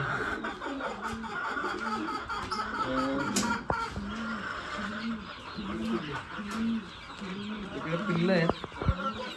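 Sonali-breed chickens clucking in a repeated, chuckling rhythm close by, with a busy background hum, on a country-chicken poultry farm.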